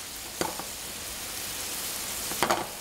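White wine reduces over high heat in a pan with browned spare ribs for a honey-herb braise. A steady, loud sizzle runs throughout, broken by two brief clinks of stirring.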